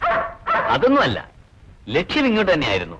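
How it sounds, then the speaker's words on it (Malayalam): A dog barks at a house during a movie scene, sharp yaps mixed in with voices talking close by, in two bursts with a short lull between them. "നായി വല്ലാതെ കുരയ്ക്കുന്നു."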